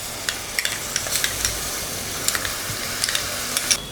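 Onions fry in a pan with ginger garlic paste for a wedding-style biryani, a steady bright sizzle with scattered clicks and stirring scrapes throughout, close up and without talk.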